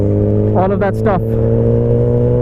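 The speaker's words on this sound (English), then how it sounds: "So you guys enjoy the exhaust note, and hopefully you'll enjoy this ride home" A brand-new Kawasaki Ninja ZX10R superbike being ridden, its loud, steady engine drone close to the mic, with a brief rising rev in the middle while someone speaks over it.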